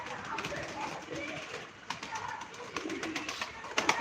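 Pigeons coo softly at a live pigeon auction, their low murmuring calls sitting faintly under ongoing talk and room noise.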